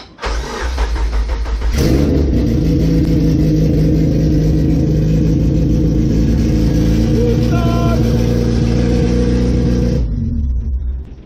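A 1992-1995 Honda Civic on a weak battery is cranked with an S2000 push start kit and catches, then idles with a loud, rough, close rumble for several seconds before cutting off abruptly.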